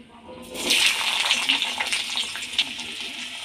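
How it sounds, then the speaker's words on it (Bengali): Cut potatoes dropped into hot mustard oil in a pan, a sudden loud hiss and crackle that settles into a steady sizzling frying sound. "তেলটা গরম হয়ে গেছে এবার আমি কেটে রাখা আলুগুলো দিয়ে দেব"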